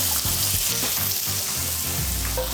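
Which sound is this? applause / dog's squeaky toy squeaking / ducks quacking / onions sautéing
onions sautéing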